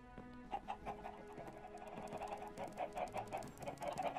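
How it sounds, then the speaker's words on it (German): Chickens in the Minecraft video game cluck in short, repeated bursts, several birds layered over steady background game music at moderate volume. "Ach, ihr kleinen Hühner. Was ist denn los bei euch?"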